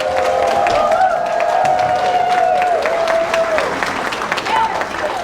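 A large audience applauds and cheers for volunteers, the clapping loud and sustained across several seconds. Voices and a tonal sound run through it.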